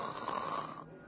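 A person imitates snoring with one harsh, rasping breath lasting about a second, loud and close.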